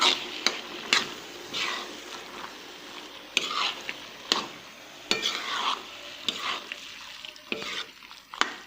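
Peas are stirred into fried minced meat in a pan, with repeated scraping strokes of a spoon against the pan over a soft, continuous sizzle.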